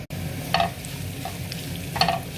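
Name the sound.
ginger pieces frying in oil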